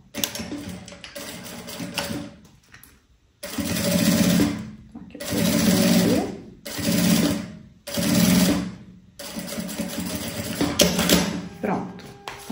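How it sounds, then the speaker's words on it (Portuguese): Sewing machine stitching a backpack's lining to its main fabric face to face, running in four or five steady bursts separated by short pauses, close and loud, with someone speaking over parts of it. "Eu vou costurar aqui, frente com frente, o meu forro com o principal."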